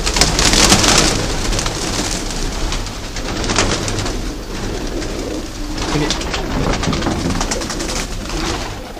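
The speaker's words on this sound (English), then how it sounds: "They're all just your commoner garden racing pigeons." Common racing pigeons fill a loft with soft, continuous cooing and rustling, a dense, close chorus of birds with no talk.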